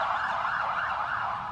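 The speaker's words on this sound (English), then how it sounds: "And now, blaring sirens have become a ritual at 7 p.m." A sustained emergency siren wails loudly and steadily in a rising-and-falling pattern, part of a nightly 7 p.m. tribute to essential workers during the COVID-19 outbreak in Canada; no voices.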